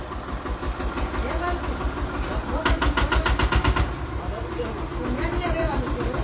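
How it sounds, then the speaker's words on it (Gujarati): Tractor engine on a farm, a continuous chugging idle with a louder rhythmic burst of revs partway through, under people talking. "જો કવિતાબેન ટ્રેક્ટર રાખતા શીખે છે."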